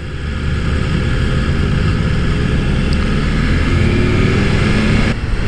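A BMW motorcycle on a demo-day test ride, likely an S 1000 RR, R 1250 RT or S 1000 XR, accelerating with a loud, steady engine roar and wind rush that holds evenly close to the rider.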